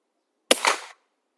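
A single suppressed firearm shot with a standard velocity round gives a sharp muffled crack followed by a short hissing tail, alone in otherwise silent surroundings.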